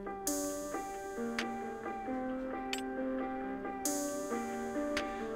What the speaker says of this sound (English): if the metronome is on, there'll be a steady clicking noise to kind of line everything up